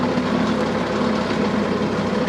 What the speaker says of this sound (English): I'm going to speed the engine up